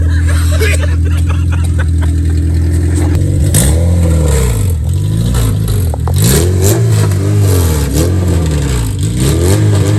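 An Acura TSX accelerates hard from a steady idle drone, its engine revving up and down in repeated loud, close surges through the gears.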